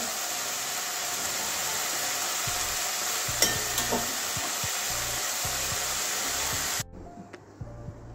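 A spoon gently stirs spicy kachki fish curry in a pan, soft intermittent scrapes and knocks over a steady hiss of simmering sizzle, quieter after a sudden drop near the end.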